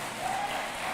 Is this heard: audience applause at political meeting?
yes